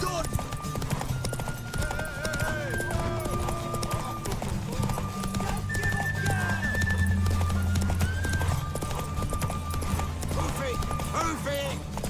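Horse hooves clip-clopping with neighs and whinnies in The Witcher 3: Wild Hunt, a continuous clatter of hoofbeats with game music and voices talking over it.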